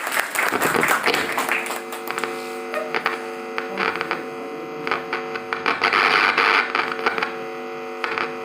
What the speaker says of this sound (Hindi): जोरदार तालियों से सर का स्वागत किया जाए।